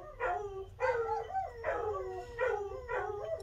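Several indoor dogs bark and howl at someone walking past outside, a run of rising, wavering yips and howls in repeated bursts, fairly close, with no people talking.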